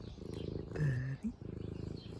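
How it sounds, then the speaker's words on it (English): A cat purrs close up in a pulsing low rumble, interrupted midway by a brief voice before the rhythmic purring resumes. "Purring. You're purring."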